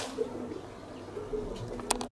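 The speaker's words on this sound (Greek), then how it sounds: "παντού έχει περιστέρια" Pigeons in Larissa, Greece, coo softly in a few low, faint calls over quiet background noise, with no talk.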